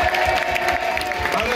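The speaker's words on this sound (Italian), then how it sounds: "possiamo fare un applauso a Bea" Audience applause and cheering at a live metal concert in a Milan club, a steady dense wash of clapping and crowd noise with a person talking over it.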